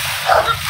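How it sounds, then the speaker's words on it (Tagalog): An angry dog lets out a single loud, close bark or snarling yelp on a rural path, brief and sharp against a rough outdoor background. "Ayan, nagagalit ang aso"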